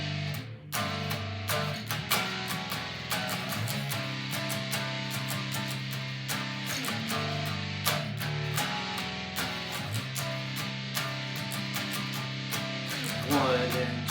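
A heavily distorted electric guitar riff played loud and close, with chugging, driving rhythmic chords repeating in a steady pattern and sharp accents throughout.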